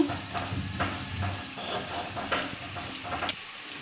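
Garlic paste fries in a pan for prawn malaikari, giving a close, continuous sizzle broken by repeated scraping stirs and a few sharper crackles.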